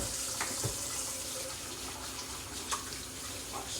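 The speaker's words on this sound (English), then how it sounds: "We're gonna wash your hands first" Tap water running at home while hands are washed, a soft steady splashing stream with occasional faint knocks, fairly quiet and with no talk.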